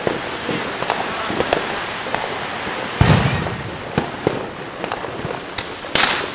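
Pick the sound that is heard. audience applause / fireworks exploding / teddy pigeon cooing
fireworks exploding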